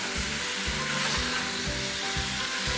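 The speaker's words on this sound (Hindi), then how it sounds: "इसको अच्छी तरह भून लें।" A beef mixture for shola fries in a pot, filling the clip with a loud, continuous sizzling hiss and a faint low rhythmic churning underneath.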